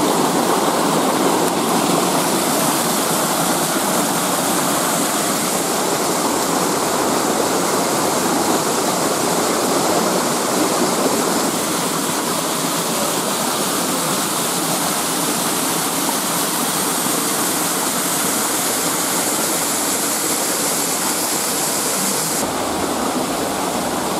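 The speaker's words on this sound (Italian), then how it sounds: "E la cascata Fellare vista dall'alto." The Fellare waterfall in the Aspromonte mountains roars as a dense, steady rush of falling water heard from above, loud and unbroken for the whole stretch with no voices.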